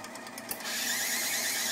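Cssi coffee machine running its cleaning cycle: a few soft mechanical clicks, then a loud, steady hissing whir that continues without a break.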